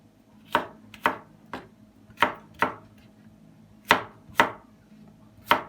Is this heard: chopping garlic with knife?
yes